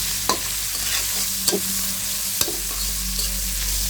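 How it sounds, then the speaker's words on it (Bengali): Hilsa fish heads and green chillies fry in hot oil with a constant loud sizzle, punctuated by a few sharp clicks and scrapes of a spatula stirring in the pan. "এখন আমি যে কাঁচামরিচটা কেটে নিয়েছি সেটাও ভেজে নেব"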